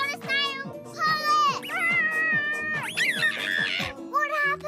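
A cartoon cat meows repeatedly in a Bluey episode, drawn-out tonal cries over children's voices talking and playing in the background.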